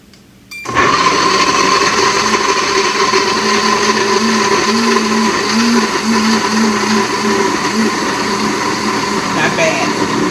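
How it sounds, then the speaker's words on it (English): A countertop blender grinds almonds with water for almond milk, switching on abruptly into a loud, steady whirring roar that holds for the rest of the clip with slight pitch shifts as the nuts break down. "But I will turn it on so that you get an idea of what it's going to sound like."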